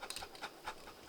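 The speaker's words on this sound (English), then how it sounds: "That's the dog right there." Dog panting at an incline during a training session, quick rhythmic breaths close to the microphone with no talk.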